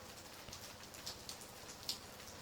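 Steady rain in the video game Selene Apoptosis, a dense continuous patter of drops on a surface with a few sharper drips standing out, heard alone without talk.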